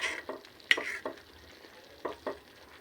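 A spoon stirs dal with its tempering in a pan, producing a few distinct scraping and clinking strokes over a soft background sizzle, close and fairly quiet, with no talking.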